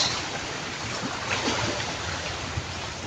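Sea waves washing below a beach resort, a steady broadband surf roar mixed with wind buffeting the microphone, continuous and fairly close, with no talk.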